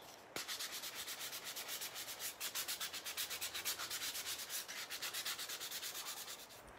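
Sandpaper rubs rhythmically back and forth over a chalk-painted wooden farmhouse sign to distress it, the quick, even strokes close and scratchy, continuing steadily without any voices.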